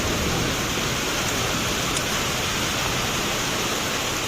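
Heavy rain pours down steadily on the day of wedding shopping, a dense, loud, unbroken hiss with no voices.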